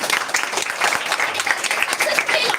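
A dense burst of audience clapping, steady and fairly close, runs throughout this short moment with a murmur of crowd beneath it.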